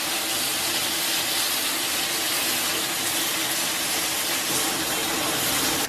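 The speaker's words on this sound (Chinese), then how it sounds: "咱们给锅里边来点这个煮肉的原汤" Beef cooking broth poured into a hot wok over diced shiitake mushrooms and soy sauce makes a steady, continuous rushing gush that stays loud and even throughout, with no voices.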